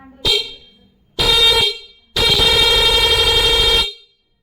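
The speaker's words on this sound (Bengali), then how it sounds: "এটা খুবই হাই কোয়ালিটি একটি হর্ন।" A pair of Japanese vehicle horns fitted together blasts three times: a short toot, a slightly longer one, then a sustained loud honk of nearly two seconds, close and clear with silence between.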